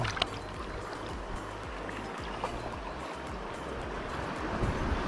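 Sea surf churns steadily behind a small fishing boat grouper-fishing off Krueng Raya, Aceh Besar, a broad wash of water noise with a low rumble underneath, continuous and close for the whole stretch.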